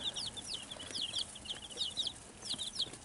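Baby chicks under warming lights in a backyard brooder, peeping in quick high-pitched chirps that repeat in short clusters, faint over a low steady background hum.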